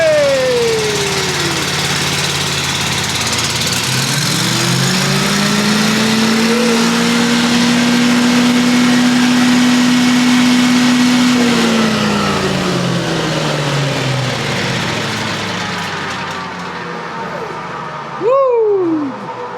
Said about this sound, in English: That sucker wanted to run. She wanted to run. All right. All right, that sucker fired right up immediately.